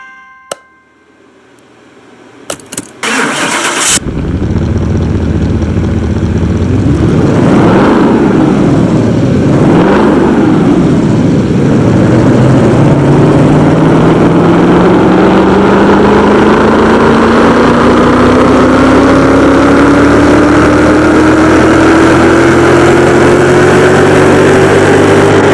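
A tuned car engine on a dyno run in Car Mechanic Simulator 2021 bursts into a loud, sustained roar that climbs steadily in pitch for over twenty seconds, with a few surges early on before the long, smooth rev.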